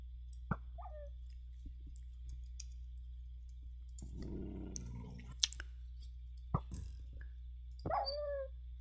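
A dog barks in a blocky Minecraft-style rebuild of Zelda's Kokiri Forest. Several sharp, separate barks stand out over a steady low hum, mixed with scattered game clicks.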